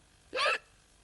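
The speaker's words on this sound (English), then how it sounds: "All he ever does is hiccup all day long." A single short hiccup, close and fairly loud, standing alone against quiet background.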